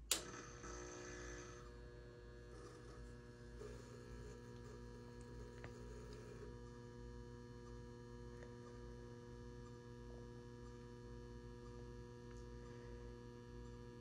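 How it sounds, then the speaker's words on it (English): HID lamp ballasts hum steadily during startup, a constant electrical drone with a sharp click at ignition and faint ticking as the lamps warm up, no talking. "I love the sound of, you know, of course, the ballasts. I love it when they hum like that."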